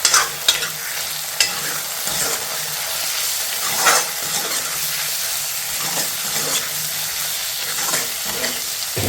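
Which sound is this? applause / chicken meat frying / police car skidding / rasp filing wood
chicken meat frying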